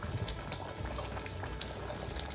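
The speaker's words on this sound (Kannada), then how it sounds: "ಎಣ್ಣೆ ಬಿಟ್ಕೊಳ್ಳೋಷ್ಟು ಕುದಿಸಿದ್ರೆ ಪನ್ನೀರ್ ಬಟರ್ ಮಸಾಲ ರೆಡಿ" Paneer butter masala gravy simmering in a pan, a steady close bubbling and blipping that carries on without pause.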